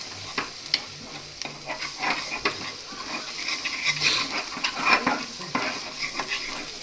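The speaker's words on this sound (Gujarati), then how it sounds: "હળદર નાખીને પછી આમ હલાવવાનું" A spoon stirs turmeric through a sizzling mixture in a frying pan, with garlic and onion already in the pan. The scraping strokes come close and steady over a constant crackle of frying.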